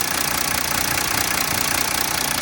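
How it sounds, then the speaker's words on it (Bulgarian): A Mercedes W204 C320 with a 3.0-litre M642 V6 idles, a steady, smooth hum with a broad hiss on top, even and unbroken throughout. "Мотора работи изключително гладко и балансирано."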